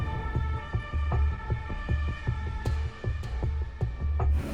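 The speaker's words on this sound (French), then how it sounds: "J'entends plein de sirènes, des voitures rouler très vite." Emergency sirens wail through a street scene after a fatal collision between a train and a school bus, layered over steady traffic rumble and repeated thumping pulses, loud and close with no talking.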